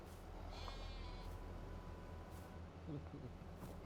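Sheep bleating in the farming video game Farming Simulator 22: a couple of faint, wavering bleats sound over a steady low engine hum, with quiet talk nearby.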